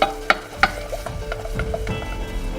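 Flour being stirred into a cheese sauce in a pan on a gas stove, with light scraping strokes and a low steady sizzle underneath, a few sharper clinks of the utensil standing out near the start.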